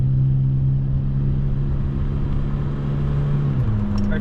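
Nissan Be-1 small engine droning steadily at near full throttle from inside the car, a constant low hum with a slight pitch change near the end.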